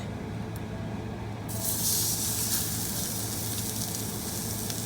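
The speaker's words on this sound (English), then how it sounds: "I'm going to go ahead and start searing the steak" A ribeye steak hits a smoking-hot pan and breaks into a loud, continuous sizzle that holds steady after the sudden onset, close and without talk.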